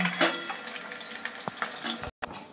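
Eggs frying in oil give a soft, steady sizzle, with a few light clinks of a utensil against the pan.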